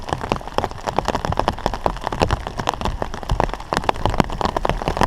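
Heavy rain pelting down during a river kayak trip, a dense, continuous patter of close drops drumming on hard surfaces with no voices.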